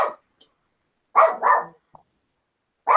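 A dog barks close by in a few sharp separate woofs, with quiet gaps between them and no talking.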